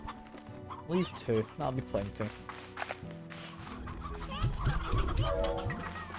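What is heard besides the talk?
rooster and chickens clucking in Slime Rancher video game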